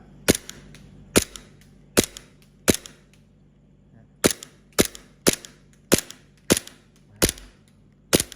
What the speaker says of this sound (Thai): พร้อมยิงนะครับ อันนี้เป็นแม็กสั้นก่อนนะครับ เดี๋ยวลองดูปุ่มกระสุนนะครับ ออโต้ไปแล้วลืม โอเค เอาเซมิก่อน